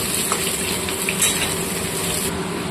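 Cut potatoes and papaya sizzle in hot mustard oil in a pan, a steady crackling fry with occasional stirring clinks and scrapes.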